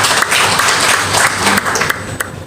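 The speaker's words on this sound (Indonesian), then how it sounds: "Berikan tepuk tangan buat Tuhan" A congregation applauds during a church worship service, dense continuous clapping filling the room loudly for the whole stretch, with no speech on top.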